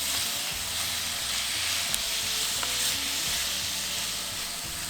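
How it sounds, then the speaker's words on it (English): Meat sizzles steadily in a pan on a stovetop over medium heat, with soft stirring scrapes running through the dense, continuous frying hiss. "Try to maintain medium heat on the stove and keep stirring."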